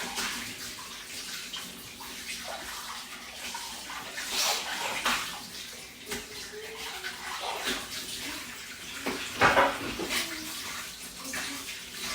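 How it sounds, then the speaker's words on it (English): Water poured into a pot of Jamaican cornmeal porridge, a steady splashing and running-water sound with gurgling swells, fairly quiet and close. "I think I'm gonna add a bit more water into it."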